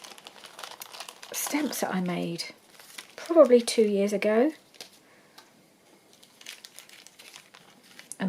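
Small plastic bags full of craft bits are handled up close, giving two bursts of crinkling and rustling, while a person talks over and around the noise.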